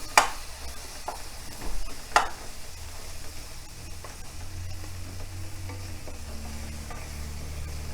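Fried fish head pieces being stirred with masala in a pan, a soft steady sizzle with a few sharp utensil knocks and scrapes against the pan.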